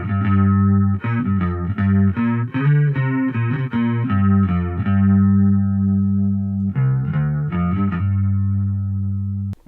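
An electric bass through a Positive Grid Spark practice amp plays a melodic line with heavy effects, distorted and chorused with a wavering, processed tone, loud and continuous, pausing briefly near the end.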